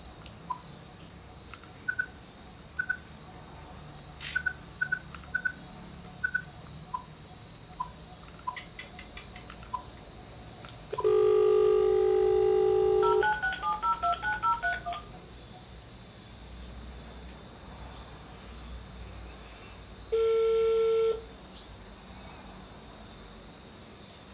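A smartphone rings during a self-call to demo a Xiaomi Mi Band 2: short electronic ringtone bursts and a few melodic beeps sound over a steady high-pitched whine, with no talking.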